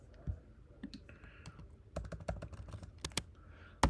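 Keys click on a computer keyboard in quick irregular bursts and single taps, close and fairly quiet, ending with a sharper louder keystroke.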